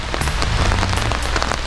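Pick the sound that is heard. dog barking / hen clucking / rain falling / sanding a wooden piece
rain falling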